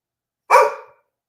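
A pet dog gives one sharp, close bark that fades quickly into silence.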